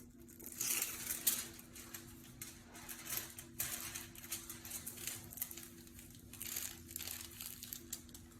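Aluminium foil crinkles and rustles in repeated bursts as it is folded during a full head hair foil weave, close up and steady over a low background hum, with no talking.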